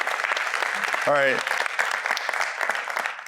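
A steady round of applause fills a cancer center fundraiser gathering, dense clapping throughout while a brief voice cuts in near the middle.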